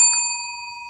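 A single bright bell strike used as a radio show sound effect, ringing clearly with a quick attack and then a sustained metallic tone that slowly fades over about a second.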